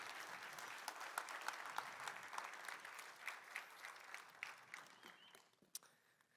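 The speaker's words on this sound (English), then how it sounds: "Why don't we give them a big round of applause here" Applause from a crowd, a dense patter of claps that stays steady and then thins out and fades near the end.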